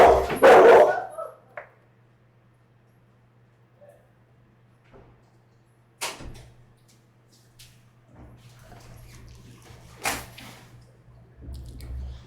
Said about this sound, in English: A whole bunch of people come in and my dogs go wild or whatever.